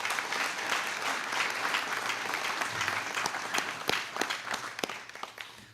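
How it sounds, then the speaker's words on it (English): Audience applause at a high school military recognition ceremony, a steady dense clapping that holds throughout with a few sharper individual claps standing out near the end. "can we please just give them a round of applause?"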